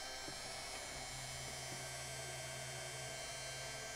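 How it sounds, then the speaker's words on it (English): Small drill working on a model build of the 1776 gunboat Philadelphia, a steady high-pitched whir running throughout, faint and continuous with no talk. "This is just the beginning of drilling."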